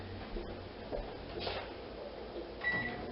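Milk heating in a microwave oven, a faint steady hum with a few small clicks and a brief rattle near the end, fairly quiet and without talking.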